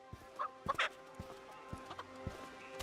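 Chickens in the video game Fable: a few short, sharp clucks and squawks over a faint steady game background, with no talk.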